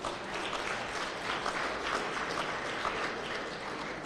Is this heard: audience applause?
yes